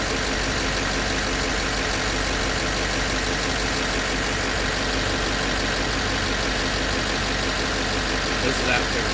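Diesel car engine idling after a Tribotex treatment, a steady, even drone that stays close and constant throughout, a voice briefly present.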